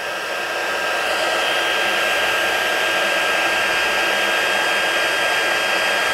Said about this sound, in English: Just first the heat tool, it's not hot, but then the minute it gets hot, it don't take long at all.